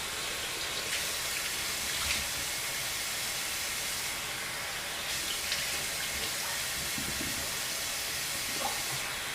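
A steady, hissing stream of cold tap water runs continuously at a sink while a bearded face is rinsed after a wet shave, close and even throughout.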